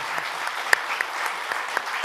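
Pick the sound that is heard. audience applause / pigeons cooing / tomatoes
audience applause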